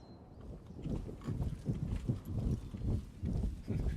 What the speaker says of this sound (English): Let's get the horses moving.